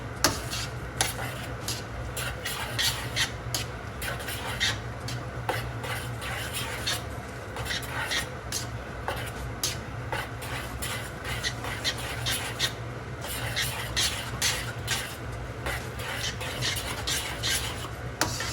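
A utensil stirs egg yolk mixture and pasta water through spaghetti carbonara in a pan, giving continuous close wet scraping and clinking strokes at a steady rhythm.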